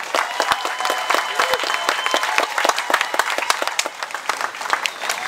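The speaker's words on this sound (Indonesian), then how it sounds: "Beri tepuk tangan yang meriah." A small gathering at a riverside community post claps enthusiastically, with distinct individual hand claps standing out within lively, uneven applause that continues throughout without talking.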